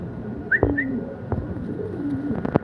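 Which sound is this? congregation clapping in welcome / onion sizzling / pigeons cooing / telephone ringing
pigeons cooing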